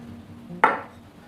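A metal spoon gives one sharp clink against a sourdough starter jar while flour is added, a single close tap that rings briefly and fades in a quiet room.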